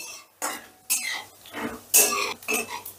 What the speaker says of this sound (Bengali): এবারে গ্যাসের আঁচটা একদম লোতে করে দিয়ে ফোড়নটাকে একটু নাড়াচাড়া করে নেব